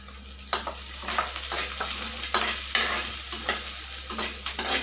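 Pasta added to a pot of boiling water, with steady bubbling and clinking stirring taps of a utensil against the pot over a constant low hum, close and moderately loud.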